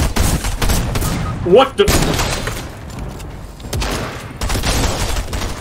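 Fortnite gunfire erupts in rapid bursts of shots, loud and close, with someone speaking briefly over the barrage.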